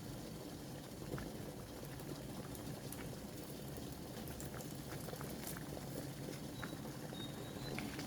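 A pot of salted water at a steady rolling boil, bubbling and churning continuously with a dense, even rumble and no voices.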